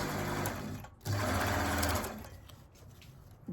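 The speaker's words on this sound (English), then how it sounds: "I am just allowing my sewing machine to just make natural" A sewing machine stitches eco-dyed vintage cloth into natural pleats, running in two close, loud whirring bursts with a short pause between and a brief restart at the end.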